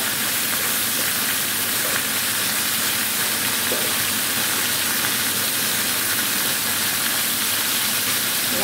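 Dense, steady frying sizzle from a cooking pot as carrots go in for a vegetable khichuri, with faint stirring and steam hiss that stays loud and even throughout.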